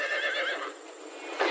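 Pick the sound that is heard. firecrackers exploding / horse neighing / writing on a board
horse neighing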